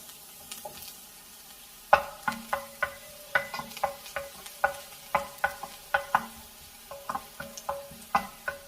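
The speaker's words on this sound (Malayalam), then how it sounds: "വെളിച്ചെണ്ണ ചൂടായി അതിലേക്ക് ആദ്യമേ വെളുത്തുള്ളി ചെറുതായിട്ട് അരിഞ്ഞത് ചേർക്കാം" Finely chopped garlic fries in hot coconut oil while a utensil taps and scrapes the pan in a brisk, regular rhythm over a soft, close sizzle.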